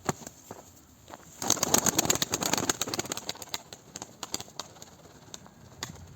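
Tumbler pigeons cooing and calling close by, with bursts of wing flapping and fluttering amid a busy loft, over a faint background hum.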